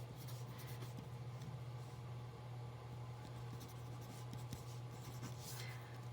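Marker or pen strokes write numbers on a board during a statistics lesson, faint and intermittent over a steady electrical hum and room noise.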